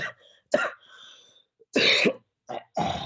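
A man coughs and clears his throat in several rough, close bursts, two short ones followed by a heavier hack and two more quick coughs, with quiet gaps in between.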